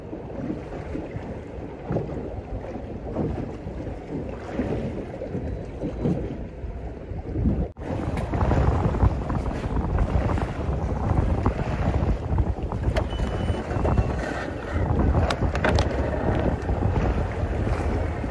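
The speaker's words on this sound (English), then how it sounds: "But this is shocking wind. It's really bad, really rough." Strong wind buffets the microphone on a small fishing boat in rough water near a break wall, a loud continuous roar with gusty bursts, sloshing water and knocks from the hull.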